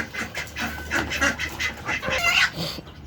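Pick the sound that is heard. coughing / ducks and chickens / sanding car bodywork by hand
ducks and chickens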